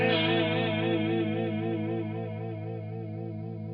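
A µVerb reverb effect from an Artifakt Lo-Fi Elements unit, its modulation LFO set to a sine wave, giving a loud sustained tone whose harmonics waver smoothly and slowly, stepping down slightly in level partway through.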